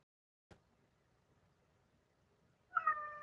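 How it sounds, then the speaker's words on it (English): A house cat gives a single clear meow near the end, following a soft knock and a quiet pause, close to the microphone in an indoor room. "That's my kitty cat for you."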